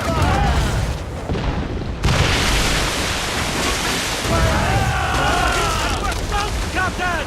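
Naval cannon fire in Assassin's Creed Rogue: a loud burst of broadband booms hits at about two seconds amid ocean wash and wind, with shouted crew voices and battle chatter layered over the din.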